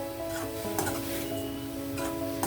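Tomatoes and fenugreek leaves frying in a pan with cumin-coriander powder, a steady close sizzle broken by scraping stirs of a spoon against the pan, with no talking.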